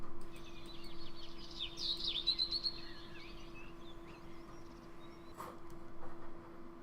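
A bird chirps in a Minecraft Feed The Beast modpack, several quick high tweets clustered early over a steady hum, then fainter scattered calls, with no talking.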